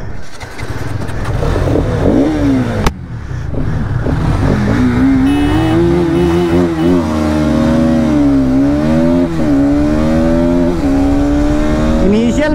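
A Bajaj Pulsar RS 200 and a Hero Karizma XMR motorcycle drag race, their loud engines revving hard and climbing through gears with repeated rising pitch sweeps. A sharp thump or shift breaks in early, then the sustained engine roar continues close.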